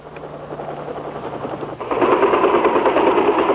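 KAC pilotless drone helicopter from 1953 in flight, a continuous rapid rotor chopping and engine drone that suddenly grows louder and stays steady in an old film recording.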